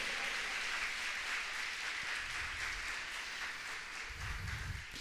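Faint, distant applause from a church congregation, a steady hiss of many hands clapping together that fades slightly near the end.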